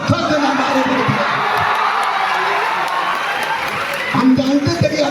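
A large audience at a Champaran stage talk shouting and cheering, a dense crowd roar with whoops that swells and holds for several seconds, loud and close, then rises again.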